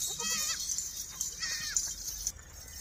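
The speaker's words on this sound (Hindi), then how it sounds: "छोड़ दे बकरी को" A goat on a goat farm bleats a few short calls, with a voice and handling noise nearby in a quiet setting.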